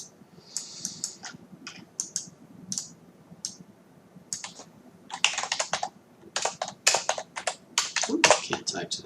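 Typing on a computer keyboard comes in short, sparse bursts of clicks that pick up into faster, denser runs of keystrokes near the end, close and crisp, with faint talk in the background.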